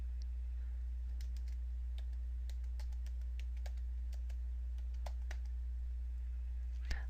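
Scattered keystrokes on a computer keyboard while typing in Microsoft Word, sparse irregular clicks over a steady low hum, fairly faint and without talk.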